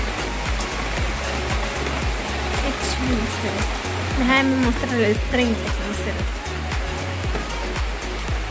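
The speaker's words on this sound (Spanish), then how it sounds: "Aquí estoy desde mi ventana mostrándole la lluvia que está cayendo en el día de hoy" Heavy rain falling on a Sunday, heard from a window as a dense, continuous roar and hiss, with a person talking over it throughout.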